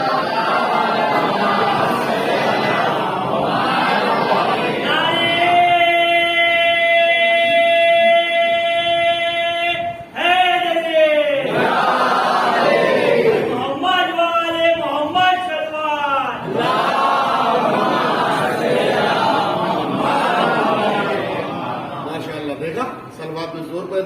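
A majlis congregation in Jogeshwari East, Mumbai chants salawat and slogans in unison, with long sustained communal vocal swells, breaks and renewed loud collective responses.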